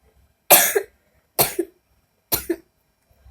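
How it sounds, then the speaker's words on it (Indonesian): Three sharp, loud coughs from a woman in a quiet room, evenly spaced about a second apart, each with a short rough tail, close to the listener and with no speech. "Saya lagi batuk ya, maaf."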